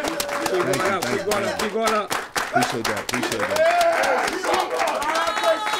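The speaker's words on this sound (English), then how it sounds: "I want y'all to give a round of applause" Crowd applause and cheering at a hip-hop event, loud and continuous while someone speaks over it.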